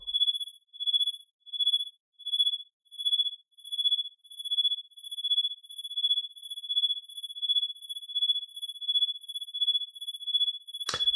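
Synthesized cricket chirps built from free modules in VCV Rack: pure, high-pitched tonal pulses repeating in a steady rhythm, each chirp a quick trill, clean against total silence and fairly quiet, ending with a short burst.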